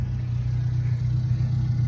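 Ford Thunderbird Turbo Coupe idling with a steady, low engine growl, close and even throughout, with no talk over it.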